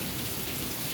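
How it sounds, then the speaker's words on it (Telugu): Steady rain falls at the Korukonda Nava Narasimha temple, a dense continuous hiss with low rumbling texture, loud and unbroken throughout the short stretch. "వర్షం పడుతుంది కాబట్టి వెళ్ళిపోతున్నాం"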